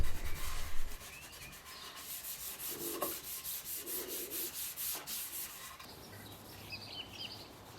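Wax being rubbed by hand onto a wooden whiskey display shelf made from firewood: a steady, close, soft rubbing and scuffing that carries on through the clip, louder at the start, with faint bird chirps in the background.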